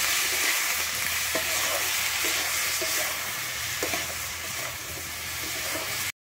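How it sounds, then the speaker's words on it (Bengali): Yardlong beans frying in a pan with salt and turmeric, a loud, even sizzle, a few light clinks of stirring scattered through, cutting off sharply at the end. "হলুদ দিয়ে আমি বরবটিটাকে ভালো করে ভেজে নেব।"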